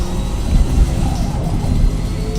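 GT race car engine accelerating in Forza Motorsport, a loud close mid-pitched roar holding steady over a couple of seconds.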